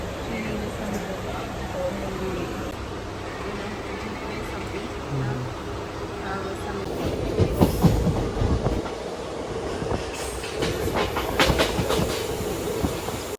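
Train ride departing from a railway station, with steady rumbling rail noise and clickety-clack wheel rhythm that grows louder and busier midway, with voices talking faintly underneath.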